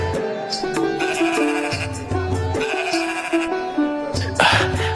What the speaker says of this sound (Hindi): भेड़ को हमारे समक्ष पेश किया जाए।